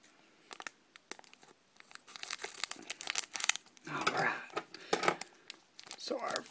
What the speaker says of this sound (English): Wow, these scissors are not that good.